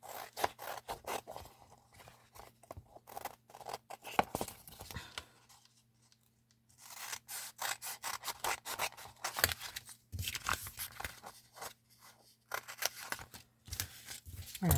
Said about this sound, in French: je viens découper.